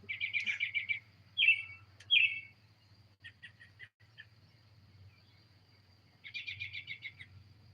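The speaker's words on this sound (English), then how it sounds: "Your wife wants to learn the birdie noises." Small birds chirp in short bursts of rapid trilled notes in the evening outside a back porch. The calls are faint and come from some distance, spaced apart with quiet gaps, over a low steady hum of insects or background noise.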